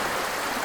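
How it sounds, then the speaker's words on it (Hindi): Water flows in a steady, full rushing wash from an outdoor stream, continuous and fairly close with no pauses. "बहता हुआ पानी,"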